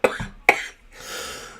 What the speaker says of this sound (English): Now I'm not going to be able to stop coughing.